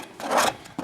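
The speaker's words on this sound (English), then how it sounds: "I got a bone handled scraper, and it's got that round bone right here" A bone-handled scraper drags across a deer hide in a couple of short, close rasping strokes, a gritty scrape that swells and fades within a second.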